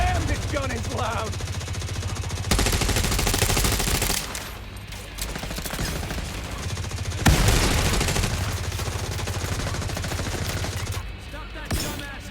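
Loud, dense gunfire from The Division Resurgence, sustained rapid bursts with short pauses between volleys, while a player talks over the shooting.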